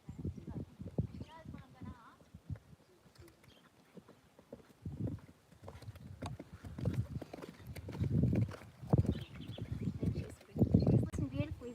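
A horse canters during a ride on a cloudy day, its hooves giving a rhythmic, moderately close clip-clop, with a rider talking over it at points.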